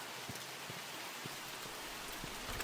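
Heavy rain pours steadily in the dark 1998 Scotland setting of the horror game The Mortuary Assistant, a constant hiss of downpour with scattered drops pattering nearby.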